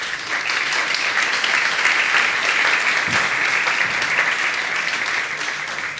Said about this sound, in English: So please, an applause for them.